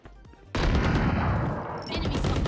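Loud, dense burst of rapid gunfire from the video game Valorant, starting abruptly after a brief quieter stretch and continuing as a sustained, crackling barrage of overlapping shots with no clear pauses.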